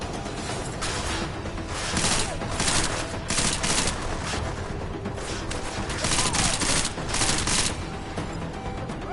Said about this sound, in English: I guess we're gonna start shooting now.